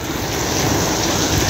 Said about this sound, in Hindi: और बारिश भी कोई शदीद आ रही है, रुकने का नाम नहीं ले रही